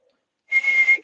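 A person whistles one short, clear, steady note, close and fairly loud, that lasts about half a second and follows a moment of silence.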